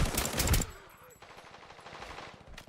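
Gunfire in a gunfight in the video game Arena Breakout, a loud rapid automatic burst up close for about half a second, then fainter scattered shots and rattling under a speaking voice.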